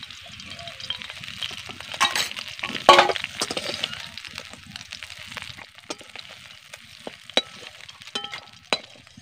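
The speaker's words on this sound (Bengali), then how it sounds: "এবার মাছগুলোকে আমি লাল লাল করে ভেজে নেব।" Small puti fish frying in a little oil give off a steady crackling sizzle with sharp pops and spits scattered throughout, close by and with no one talking.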